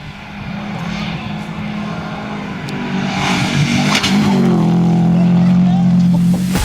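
A rally car going sideways on dirt during a rally practice test, its engine droning loud and steady and rising in pitch as it accelerates, with speech over it.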